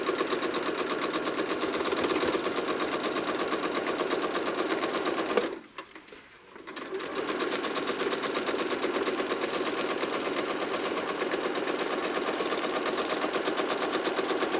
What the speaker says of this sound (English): I'm going to stitch up and around, place the ruler, stitch in the ditch down to it